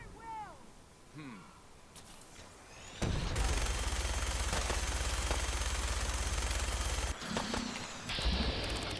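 Fallout 4: Far Harbor combat, with sustained rapid automatic gunfire erupting after quieter moments, loud and continuous for several seconds while characters shout in the background.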